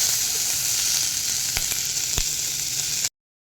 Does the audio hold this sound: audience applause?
no